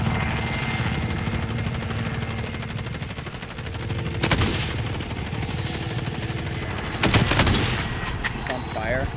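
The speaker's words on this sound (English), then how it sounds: "Okay, I'm shooting this one." Warzone video game gunfire cracks out in two sharp bursts over a continuous droning helicopter rumble, the shots loud and close against the dense battlefield noise.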